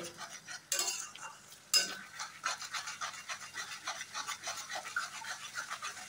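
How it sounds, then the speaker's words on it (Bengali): Spice masala being stir-fried in a pan for jackfruit biryani, heard as a soft continuous sizzle with a steady rhythm of scraping and stirring strokes, plus two louder knocks early on. "যতক্ষণ না মশলা থেকে তেল ছেড়ে আসছে ভালো করে কষিয়ে নেব"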